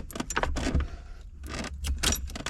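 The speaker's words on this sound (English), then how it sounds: "just turn the key all the way back." Key turning in the ignition lock cylinder of a 1985 Ford Mustang, close metallic jingling and clicks of the keyring with a couple of firmer clunks.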